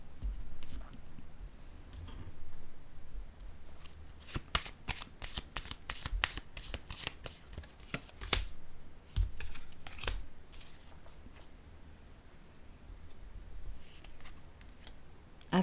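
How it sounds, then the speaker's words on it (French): Playing cards are handled, shuffled and laid down close by, with a rapid burst of crisp riffling snaps in the middle and scattered softer slaps and flicks before and after, no talking. "Je vais déposer une carte ici."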